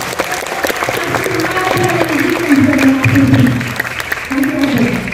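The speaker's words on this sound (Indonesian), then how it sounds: "Kita tepuk tangan yang kuat untuk kita." Applause from the audience at a gala premiere of a children's film, steady crowd clapping for about five seconds with voices murmuring and talking underneath.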